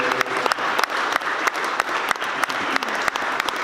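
Audience applause at a panel discussion on gentrification, a steady wash of many hands clapping throughout, fairly loud and close, with no talk over it.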